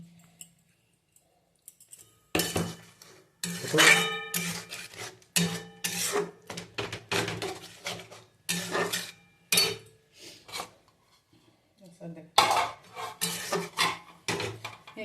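A pot of tomato, potato and poppy seed curry lifted off the stove, heard as a run of close metal clanks, scrapes and knocks of pots and utensils, coming in irregular bursts with short quiet gaps.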